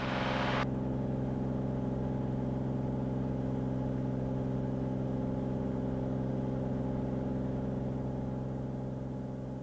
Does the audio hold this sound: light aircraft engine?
yes